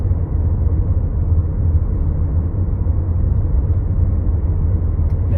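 Nissan car cruising on the road with ProPilot Assist engaged: a steady low rumble of road and engine noise inside the cabin, continuous and fairly loud with no talking.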